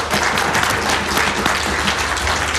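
A conference audience claps steadily in a large room, a dense, even wash of many hands applauding throughout, no voices standing out.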